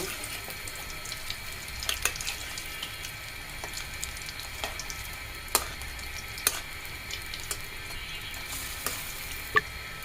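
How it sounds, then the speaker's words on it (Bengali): Lentil and egg fritters fry in oil with a soft, even hiss and scattered small pops and crackles, heard close but fairly quiet. "এভাবেই লাল করে ভেজে নিব সবগুলো।"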